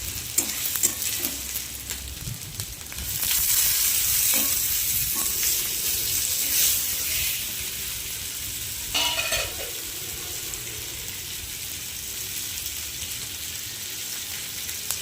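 Chopped tomato frying in a pan with ginger and garlic while being stirred, a steady close sizzle with scraping stir strokes, louder after a few seconds and continuing alone without talk.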